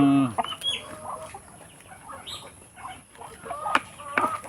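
Chickens and breeder hens clucking at feeding time on a backyard farm, several close, irregular clucks and squawks with scattered rustling and a few brief flutters, someone talking intermittently.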